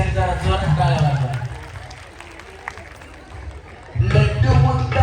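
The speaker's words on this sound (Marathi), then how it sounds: "टाळ्या वाजवा वहिनीसाठी, जरा जोरात टाळ्या वाजवा." Audience clapping for a contestant at a Home Minister game show, a crowd's scattered claps under a loud voice, with music and speech returning at the end.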